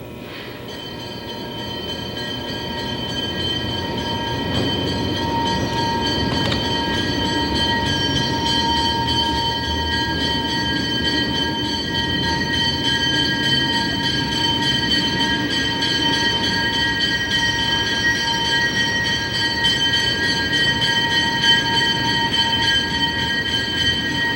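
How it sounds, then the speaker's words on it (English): A C628 diesel locomotive, number 6725, rolls into the Green Bay shops for an annual oil change, its steady engine drone and ringing tonal hum building early and holding loud and continuous throughout, with no talk. "today the 6725 is just coming in for its annual oil change"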